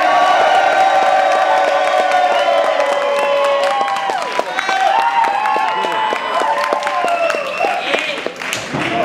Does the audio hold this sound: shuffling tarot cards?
no